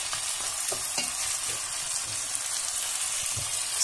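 Onion sautés in a pot for red lentil soup, a steady soft sizzle with occasional stirring clicks, close and continuous with no talk.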